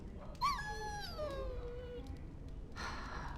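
A dog in Dragon Age: Origins gives a single drawn-out, falling whimper, close and clear, trailing off over a low background hum, followed by a soft rustle.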